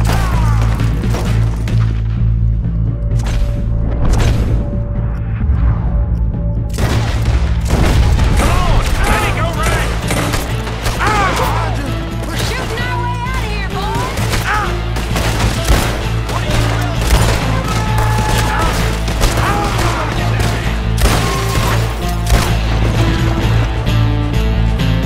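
A gunfight in Red Dead Redemption 2 erupts in dense, rapid volleys of shots and thuds over several seconds, with game characters talking and shouting amid the firing.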